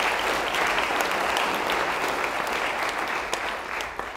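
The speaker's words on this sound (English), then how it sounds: "So would you please give this group a round of applause?" An audience at a staff all-hands meeting gives a colleague a round of applause, dense, even clapping that stays loud for several seconds and tapers slightly at the end.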